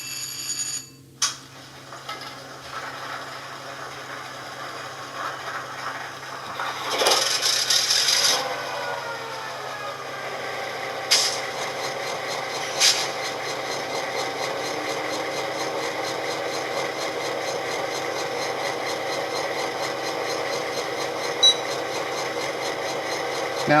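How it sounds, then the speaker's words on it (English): An S gauge toy locomotive fitted with a Blunami sound decoder starts its engine on a test bench, a thin rising mechanical whir that settles into a steady electronic engine drone with a few clicks and brief bursts. "We hear our engine starting."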